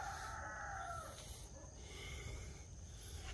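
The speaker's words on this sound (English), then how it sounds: "There's some chickens in there." Chickens in a farm enclosure make faint, fairly distant clucks and calls over a quiet, steady outdoor background.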